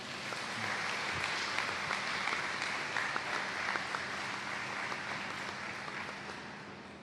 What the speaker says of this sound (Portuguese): e pedia uma salva de palmas